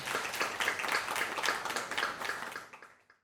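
An audience at an opening conference on media, youth and suicide applauds, a dense patter of many hands clapping steadily close by before fading out.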